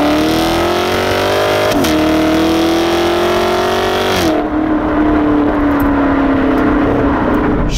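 A 2017 Chevrolet Camaro SS with a V8 accelerates hard, its loud engine note rising steadily through the gears with a brief dip at each shift, close and sustained throughout.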